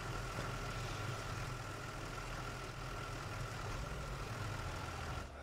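A fire engine idles in the Into The Flames firefighting video game, giving a steady, unbroken low rumble with a constant hum that holds at even loudness for the whole stretch, with no talking.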